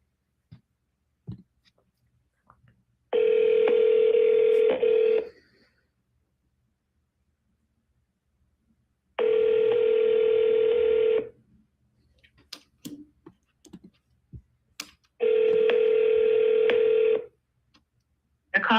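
Long steady telephone tones from a call to a Kia dealership's automated phone menu, three sustained beeps of about two seconds each separated by pauses, loud and clear with faint clicks in between.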